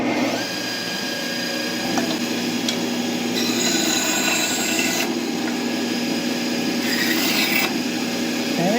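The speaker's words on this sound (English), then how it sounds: "I'm over at my bandsaw" Bandsaw running on solar generator power and cutting a small piece of wood: a loud, steady motor whine and blade hum throughout, with brief harsher rasping stretches as the blade bites into the wood.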